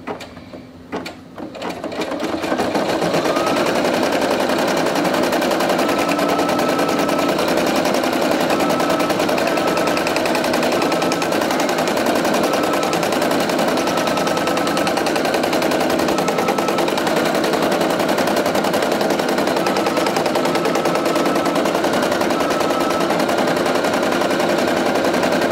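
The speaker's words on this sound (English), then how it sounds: "so now I just have to press go and it's gonna do the tack down stitch" A Brother PE800 embroidery machine stitches an applique tack down, a loud fast needle rattle that starts after a brief pause and then runs steadily and close, with no talking.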